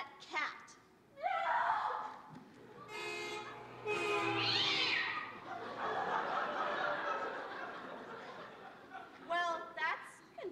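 A cat meows a couple of times during a university law revue stage show, its brief rising cries sitting under and between actors' lines and audience chuckles.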